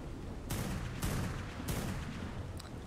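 Three sharp gunshots from a firearm in the modded survival game ARK Survival Primal Fear, spaced about half a second apart over a steady ambient rumble, with a faint clink near the end.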